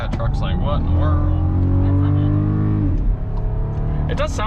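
Engine of a 2021 VW Atlas Cross Sport while driving, a loud steady drone with rising and falling pitch as it accelerates, with road noise.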